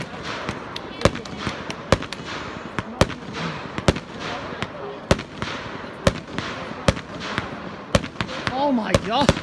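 Fireworks burst continuously in a rapid string of sharp cracks and bangs at a high school graduation, with excited voices calling out beneath the barrage.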